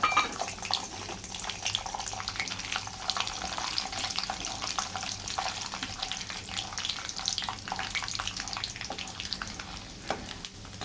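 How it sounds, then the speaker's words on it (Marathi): Peanuts roast in hot oil and ghee, giving a steady, close crackling sizzle with stirring and scraping running unbroken throughout, no voices. "आता आपण शेंगदाणे भाजून घेऊया."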